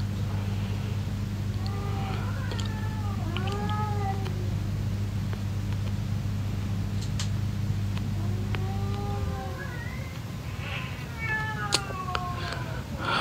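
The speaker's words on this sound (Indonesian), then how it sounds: "itu kucing siapa? Iya, kedengeran ya suara kucingnya." A cat meows several times in short, wavering cries over a steady low engine-like hum, then more meows near the end, fairly close and clear.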